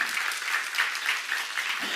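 A church congregation at a seminar claps together in steady, dense applause for the whole two seconds, moderately close and continuous.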